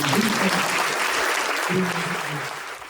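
Church congregation applauding after a healing testimony, a broad continuous wash of clapping with voices and cheers mixed in underneath.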